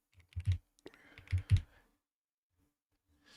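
Computer keyboard typing during a live trading session, with two quick bursts of clacking keystrokes close by, a short pause between them, then quiet.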